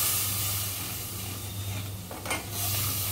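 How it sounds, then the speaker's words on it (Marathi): Ground masala paste sizzling in a hot pan while being sautéed for Puneri misal: a continuous close frying hiss with a brief stirring scrape near the end and no speech. "2 मिनिटं ते 1 मिनिट मसाला चांगला परतून घ्यायचा आहे"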